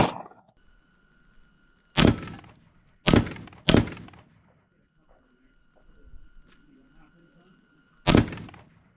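Rifle rounds from a 5.56 strike a steel manhole cover outdoors: four sharp, loud impacts, three in quick succession and one after a pause, with faint background noise between them.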